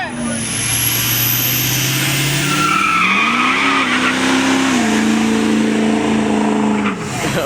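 A Ford EcoBoost car skids at a car meet, its tires squealing loudly and steadily over a revving engine for several seconds, with people talking nearby.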